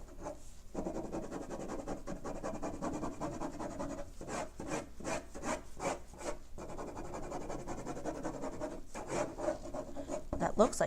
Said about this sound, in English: with a ballpoint pen and no eraser, you can totally draw something